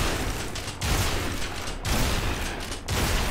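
Shotgun blasts in Gears of War, several heavy booming shots spaced roughly a second apart, each a broad loud burst with a short decay, mechanical clatter between them, and no talk.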